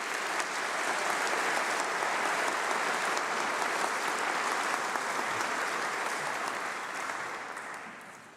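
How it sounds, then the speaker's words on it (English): A large congregation audience gives a sustained, dense round of applause for international students, loud and even throughout before tapering off at the end, with no talk over it. "So I think a huge round of applause."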